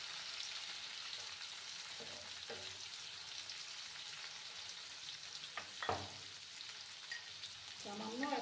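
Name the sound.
chopped tomatoes and onion frying in pan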